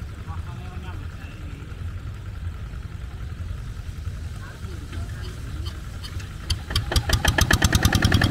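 A rice-field tractor engine chugs steadily at close range, its rhythmic pulsing growing louder and faster toward the end as the engine revs up.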